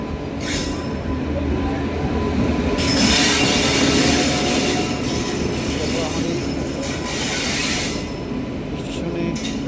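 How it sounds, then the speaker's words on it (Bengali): Train pulling into a station, metal wheels squealing loudly over a continuous heavy rolling rumble close by, the screech rising and easing over several seconds, with faint voices in the background. "ট্রেন আসছে"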